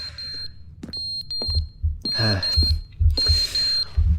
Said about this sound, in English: does that just mean the batteries are dead in that smoke detector?